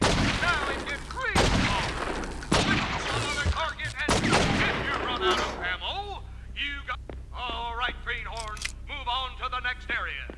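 In the True Crime video game, sharp gunshots fire in a quick series at a target, loud and close over the first few seconds, then someone talks with faint shots mixed in.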